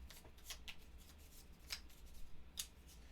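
Cards for the Escape Plan board game are shuffled in a few quiet, crisp riffling bursts spread over a few seconds, close by and with no talking.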